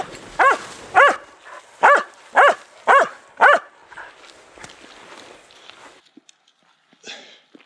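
A hunting dog on a bird hunt barks six times in a steady, loud, close rhythm, followed by quieter rustling and footsteps.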